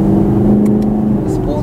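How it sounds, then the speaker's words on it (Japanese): Chevrolet Camaro SS with a 6.2-litre V8 in sport mode emits a steady low exhaust drone from inside the car while someone talks over it. "スポーツモードでやっとこういうねちょっと排気音のね大きさ感が聞かせてくれますね"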